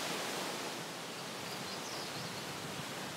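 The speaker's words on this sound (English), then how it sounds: "I came down to check out the creek because I could hear it" Cheyouche Creek rushing below a hydroelectric dam in British Columbia, a steady broadband wash of water, constant and fairly soft with no voices.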